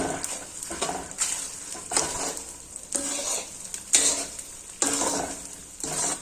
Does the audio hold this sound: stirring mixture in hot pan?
yes